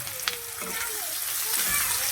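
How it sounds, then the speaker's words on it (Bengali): Radish, eggplant and cabbage pieces sizzle in a pan with onion, a steady, close, dense frying hiss with small crackles, and one sharp clink near the start. "পেঁয়াজটা একটু ভাজা হয়ে গেলে সবজি একটু মূলো, বেগুন, একটু বাঁধাকপি ছিল ওটা দিয়েছি"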